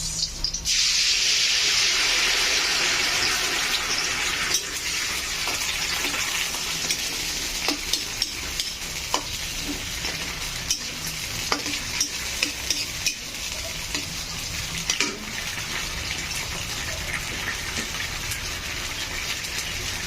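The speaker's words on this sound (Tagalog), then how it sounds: "So, lagay na natin yung sardinas." Canned sardines frying with chayote tops in a pan, a loud hiss and sizzle that flares at first and then settles into a steady crackle, with repeated clinks and scrapes of stirring throughout.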